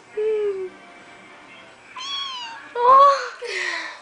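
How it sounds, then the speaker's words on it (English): A cute kitten meowing close by, several distinct meows of varying pitch separated by brief pauses, with a person's voice calling to it in between. "Come here, kitty."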